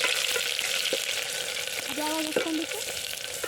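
Chopped onions fry in a pan while cooking outdoors in a field, giving a continuous hissing sizzle at moderate volume with a few stirring knocks and a brief tonal squeak partway through.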